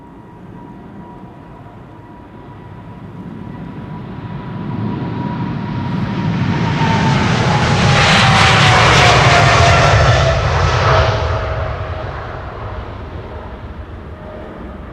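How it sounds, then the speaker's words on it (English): KLM Boeing 777-300, sixteen years old, departing Amsterdam Schiphol Airport: a loud jet roar swelling as it passes, whining engine tone drifting downward, then easing off, heard alone. "KLM flight 735 to Willemstad Curaçao, 777-300 16 years old"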